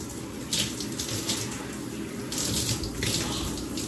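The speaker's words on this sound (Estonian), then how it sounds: "Pesen oma juukseid 2-3 korda, ma võtan umbes nii palju." Shower water runs steadily during hair washing, a constant splashing hiss with slight surges as the flow is disturbed, no voices.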